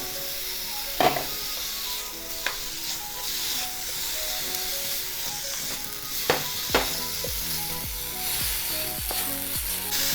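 Pork mince stir-frying with chili in a wok for Thai pad kra pao, a street food dish: constant loud sizzling with sharp scraping clanks of a spatula at irregular intervals, close and without talk.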